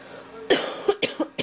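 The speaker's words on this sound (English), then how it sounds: "Sorry guys, I've got a bit sick, a bit of a cough, so don't mind that." A man with a cold coughs several times in a row, close and fairly loud, with short rough bursts spaced unevenly over a quiet room background.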